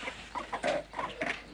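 Chickens kept by a man near Toledo, Spain, clucking and murmuring close by in a short burst of several soft, overlapping calls with no talk.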